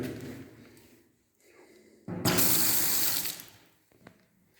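A newly installed water tap in a pigsty runs in a strong, loud gush for a couple of seconds after a quiet stretch, then shuts off, leaving faint handling clatter.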